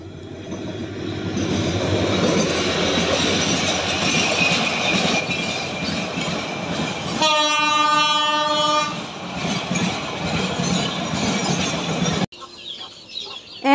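A train rolls steadily along a railway line beside a house, its loud wheel and carriage rumble continuous throughout, with a horn-like tonal blast in the middle and a sudden cut near the end.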